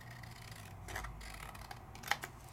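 Scissors trim card paper during a card-making session, making a few quiet, close snips and soft paper rustles, with the sharpest cut near the end.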